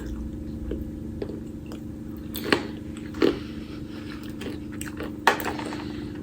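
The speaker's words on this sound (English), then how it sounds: "So let's chow down on some cheese, raisins, and white chocolate, and almonds." Someone chewing a snack of cheese, raisins, white chocolate and almonds, close up, with soft wet mastication and a few sharper crunchy bites standing out over a low steady background hum, no talking.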